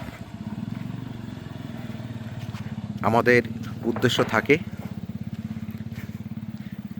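A motorcycle's engine putters steadily on a scenic road near the Sitong River, a near, rhythmic idling throb running throughout while people talk briefly over it.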